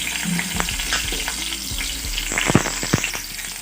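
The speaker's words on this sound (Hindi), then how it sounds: "घी गर्म हो गया, अब इसमें डालेंगे हम हरी मिर्च" Green chilies sizzle loudly in hot ghee for fasting-day fried potatoes, a steady crackling fry broken by several sharp spoon scrapes and clatters near the end.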